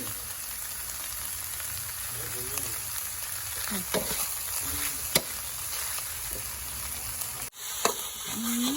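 Field rat stir-fried with holy basil hisses in a hot pan, a continuous close sizzle with intermittent scraping stirs and a sharp clack near the end.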